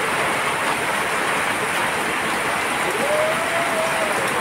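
Continuous heavy rain pours down outside a balcony, a loud, steady, unbroken hiss that fills the whole stretch with no pauses or voices.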